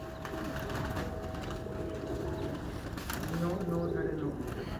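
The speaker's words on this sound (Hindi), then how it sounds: "बहुत ही तगड़े कबूतर हैं जी मोकम भाई के" Top-rated fancy pigeons, prized breeds kept by a pigeon fancier, coo steadily in a loud, busy loft with layered bird calls throughout.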